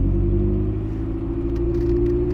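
An Opel Speedster's engine rumbles steadily from inside the car while driving, a loud, continuous low drone with no talk over it.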